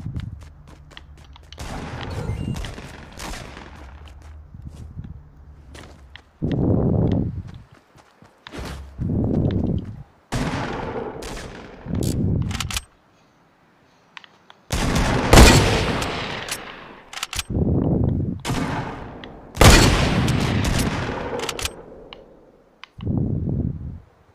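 Rapid gunfire and impact bursts from the video game Fortnite, several loud volleys of shots separated by brief quiet gaps, with scattered footstep-like thuds in between.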